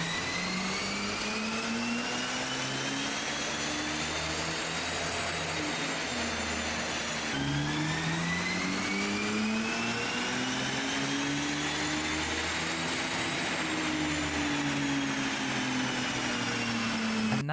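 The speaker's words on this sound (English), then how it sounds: "now it's time to line up the star of the show, my BMW 330 Ci on the dyno" A BMW 330 Ci engine running hard on a dyno, a loud sustained roar that climbs steadily in pitch through the revs, drops sharply as it shifts, then climbs again, near and alone.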